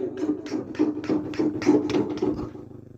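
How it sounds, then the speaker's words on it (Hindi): Heavy knocks pound on a door as a sound effect in a Hindi horror story set at night, about ten loud, hollow thuds in quick irregular succession that fade at the end. "फिर दरवाजे पर किसी ने जोर से दस्तक दी"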